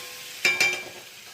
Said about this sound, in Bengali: ব্যাস সাবুটা দিয়ে এবার একটু নাড়া দেবো